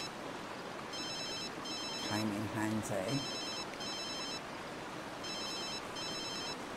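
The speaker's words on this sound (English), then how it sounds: "That's the phone call for the party, I'm assuming." A video game telephone rings in repeated double bursts of electronic bell tone with short gaps between them. A low rumble underneath continues steadily, and someone speaks briefly partway through.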